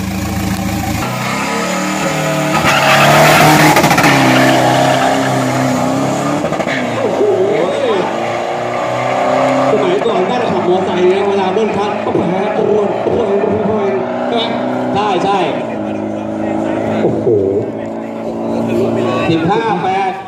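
Big-turbo 3.2-litre Ford pickup truck at a 402 m straight-line drag race, its loud engine revving and roaring continuously under excited commentary throughout.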